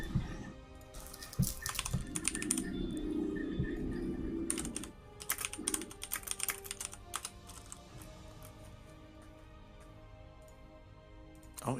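Someone types rapidly on a computer keyboard, dense bursts of clicking keystrokes that thin out into sparser, quieter taps toward the end, with no talking.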